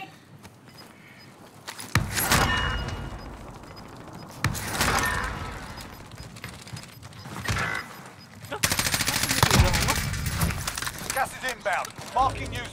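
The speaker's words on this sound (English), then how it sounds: "Taking fire." Gunfire in Call of Duty Warzone comes in separate bursts of sharp shots, loud and close at times, with players talking over it and shouting.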